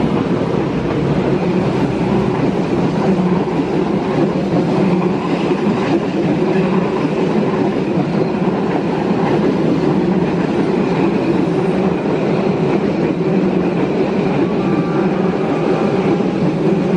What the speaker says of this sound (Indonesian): Kereta api Pangandaran, persiapan berjalan langsung stasiun Bakiro.